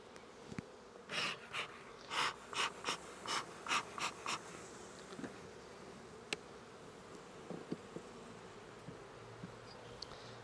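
Honeybees buzz at an open hive during an inspection, with a run of distinct close buzzing bursts early on, then quieter scattered sounds and soft ticks, faint overall, with no talk.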